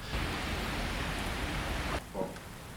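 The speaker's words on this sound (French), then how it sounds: "il pleut" Rain pours down at an outdoor festival in Angers, a dense steady hiss filling the scene for about two seconds before it drops sharply, leaving a quieter patter with a brief faint sound.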